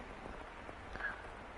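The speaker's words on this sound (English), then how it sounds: "The rain just won't let up." Steady rain pours in The House in Fata Morgana, a continuous soft hiss of drops with faint patters, moderately loud and unbroken, with no voices over it.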